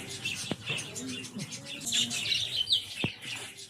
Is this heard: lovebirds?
yes